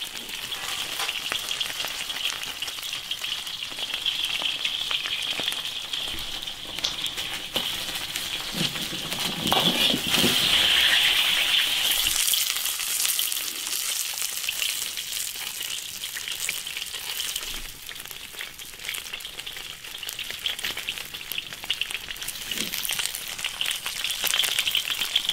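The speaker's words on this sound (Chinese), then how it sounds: "这个鱼块要给它煎到两面金黄，" Fish pieces fry in oil in an iron wok until golden, giving a continuous close sizzle that swells into a louder crackle partway through, with occasional spatters.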